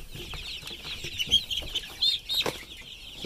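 Young Rhode Island Red and other chicks let out onto grass, giving soft scattered clucks and high peeps with brief wing flutters and rustling, close by and fairly quiet.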